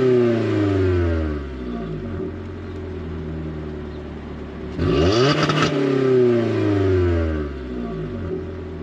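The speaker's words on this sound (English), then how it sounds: "Let's go ahead and rev that engine up." A 2022 Toyota Corolla Apex Edition's 2-liter four-cylinder engine idles, then gets a sharp rev that climbs and falls back to idle, heard up close with no talking.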